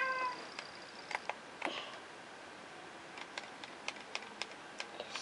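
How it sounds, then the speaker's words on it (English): A small cat gives a couple of short meows at the start, followed by scattered faint clicks and taps against a quiet indoor background, with no one talking. "It's a little cat over here."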